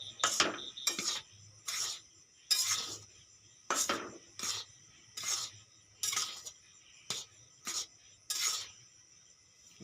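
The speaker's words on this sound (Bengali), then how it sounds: "আমি এখনও হালকা হালকা এটা নাড়াবো, কেন কড়াই গরম রয়েছে, পুড়ে যেতে পারে" A mixture stirred in a hot wok after the heat is turned off, with a utensil scraping and clinking against the pan in about a dozen short, regular strokes, close and moderately loud, with no talking.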